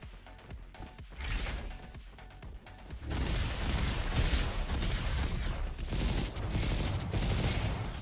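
Gunfire from the beluga cannon in the Roboquest shooter game, a rapid stream of blasts that grows louder and denser after a few seconds, with busy game effects and no talking.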